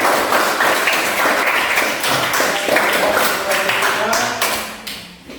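A classroom audience claps hands in a dense, close burst of applause that runs several seconds and then fades out.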